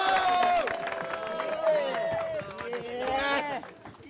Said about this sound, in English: So a nice big round of applause